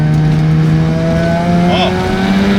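A rebuilt Mazda RX7 FD rotary engine pulls hard on a winding mountain touge road, a loud steady drone rising slightly in pitch, with a short chirp near the end.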